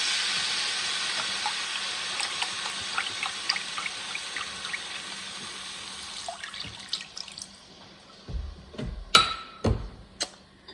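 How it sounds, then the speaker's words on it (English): Chicken broth pours into chili gravy for enchiladas in a home kitchen, a steady liquid rush that tapers off, then a few sharp knocks and clatters near the end. "now I'm going to add 2 cups of chicken broth"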